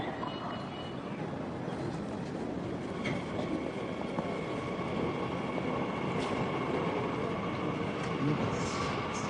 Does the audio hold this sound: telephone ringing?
no